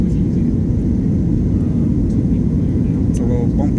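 Airplane rolling down the runway on its takeoff run, a loud, steady low rumble of engines and wheels that fills the whole cabin without a break, with faint bumps and a brief higher tone near the end.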